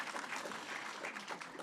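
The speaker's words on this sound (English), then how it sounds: "So we have a round of applause for the 5th year anniversary of Mark Jenkin winning the award." A brief, faint burst of dense, steady clapping from an audience at a film critics' awards ceremony.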